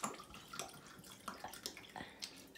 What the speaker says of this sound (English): Refill the container of limeade with tequila